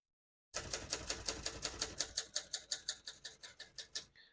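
Rapid typing on a 1975 Adler J5 vintage portable typewriter, a steady run of sharp close keystrokes at an even rhythm with no voices, ending in a small metallic clatter.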